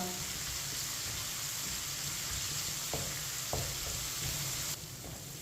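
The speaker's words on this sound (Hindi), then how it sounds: "लहसुन को मैंने 2 मिनट के लिए पका लिया।" Garlic sizzles steadily in a pan over low-to-medium heat, a continuous crackling hiss with a few soft knocks of stirring, faint and close.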